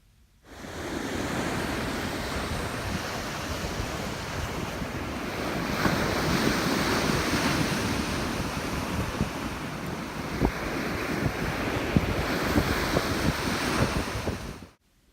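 Steady roar of ocean surf with continuous wash and rumble, waves breaking and rolling without pause, mixed with some wind buffeting.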